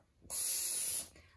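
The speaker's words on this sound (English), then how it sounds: "So we're gonna spray our mug," Cooking spray is sprayed into a mug for a mug cake, one steady hiss of about a second, loud and close, with no talk over it.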